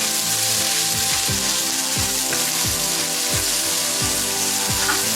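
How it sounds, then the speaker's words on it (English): Onions and garlic sizzle and fry steadily in a hot cast iron wok, a dense close hiss with periodic low scraping strokes from stirring. "So now, you cook it until the onion becomes slightly translucent"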